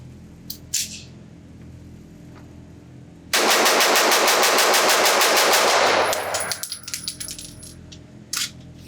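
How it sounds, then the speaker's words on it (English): Zev Technologies OZ9C compact 9mm pistol with a compensator emptied at a shooting range in rapid fire, about fifteen loud, close, evenly spaced shots in a steady burst, then clinking brass casings and a few scattered clicks. "dump the magazine as fast as I possibly can"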